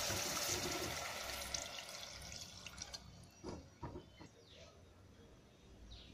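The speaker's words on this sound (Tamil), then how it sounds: "நம்ம இப்போ நம்ம எடுத்து வச்சுருக்க தேங்காய் பால் ஆட் பண்ணிக்கலாம்." Coconut milk is poured into a pot of pulao, a wet gurgling splash at the start that tapers into a few soft drips and faint liquid sounds.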